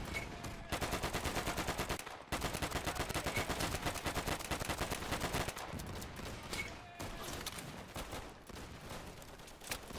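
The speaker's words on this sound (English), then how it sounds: "Because we're coming under small arms fire." Small arms and machine gun fire in the video game Easy Red 2, dense rapid bursts of gunfire crackling almost continuously with brief pauses, loud and close.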